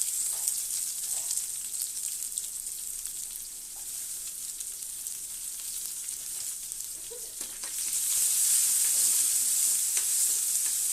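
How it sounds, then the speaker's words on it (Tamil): Continuous sizzling of onions sautéing in a pan for sambar, with occasional stirring scrapes; the sizzle grows louder and brighter toward the end. "வெங்காயம் கொஞ்சம் வதங்கட்டும்."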